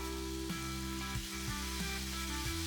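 Egg and bacon fry together in one pan with buns soaking in the bacon fat, a steady close sizzle with soft crackles and a low background hum, no voices.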